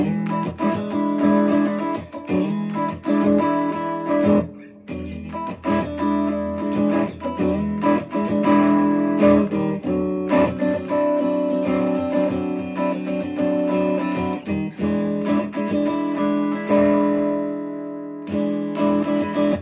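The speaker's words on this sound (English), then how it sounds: "it sounds like this when I put it through sort of an AC30 sound on my amp" A Sterling by Music Man Cutlass CT50 SSS electric guitar played through an AC30-style amp tone, with sustained chords and picked notes ringing loud and close in a steady flow, with brief pauses and no talking.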